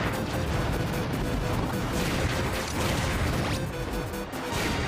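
Bullet Bills are deflected in Project M's Subspace Emissary, a loud, dense barrage of crashing, blasting impacts that rolls on continuously with barely a pause.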